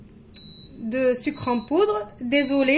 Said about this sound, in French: c'est le bruit de mon lave-vaisselle